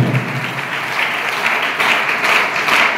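Sustained audience applause at an Independence Day celebration event, a dense steady wash of many hands clapping at close range for about three seconds, with no talk over it.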